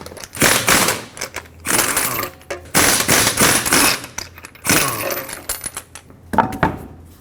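Impact wrench with a 22mm socket loosening swollen lug nuts on a 2009-2014 Ford F-150, in loud rattling bursts of rapid hammering, several runs close up separated by brief pauses.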